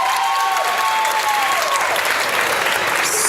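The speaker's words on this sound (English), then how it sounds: "Everybody clap for Logan one more time." An audience at a rooftop poetry open mic claps steadily for a performer, a dense, even wash of applause with a few whoops, loud and close, with no talk over it.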